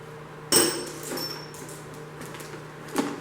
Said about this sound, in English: These are the head bolts that came out of my 360.